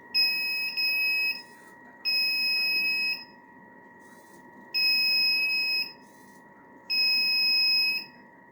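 A buzzer on an ESP32 microcontroller project with a servo gives four long, evenly spaced beeps of about a second each. The bright electronic tone rings over a steady low hum, and no one speaks.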